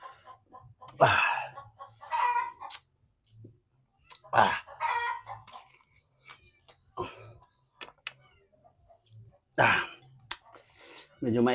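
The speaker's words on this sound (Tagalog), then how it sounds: "Medyo maingay dito mga idol, may mga manok sa labas." Chickens and a rooster outside a Filipino home during a meal of pork trotter soup, with clucks and crowing in short bursts of moderate loudness, mixed with faint talk and eating sounds.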